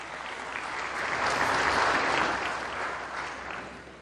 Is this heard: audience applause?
yes